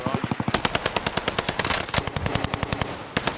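Automatic gunfire in a multiplayer video game, with rapid bursts of loud sharp shots crackling in quick rhythm, a brief gap near the middle before the firing resumes, and no talking.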